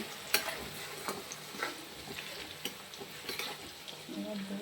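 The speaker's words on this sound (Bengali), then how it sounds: "এবার একটু পরিমাণ মতো লবণ দিয়ে নেব, দিয়ে নাড়িয়ে নিচ্ছি" Chicken is stirred with salt in a hot pan, with soft scraping and clinking of a spatula against the metal over a quiet, low sizzle and no talking.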